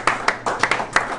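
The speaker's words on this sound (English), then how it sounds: "Give a big round of applause for Mark in the house." A handful of separate claps from a sports bar crowd in Pittsburgh, greeting the bar's owner; the claps come loose and uneven over about a second, with background chatter underneath.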